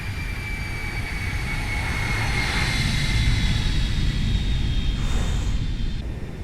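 Airbus A321 with Toliss-style simulated engines passing by in a flight simulator after takeoff, a steady broadband jet roar with whining tones, loud and sustained, swelling slightly at mid-pass.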